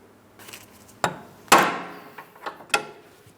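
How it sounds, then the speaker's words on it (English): Sharp metallic hammer strikes on a pry bar against a clamp ring out while replacing front inner tie rods on a Chrysler Town & Country minivan, two loud blows then several lighter taps, close up with no talking. "We need to rest our pry bar against it, and then we'll be using a hammer to break it free."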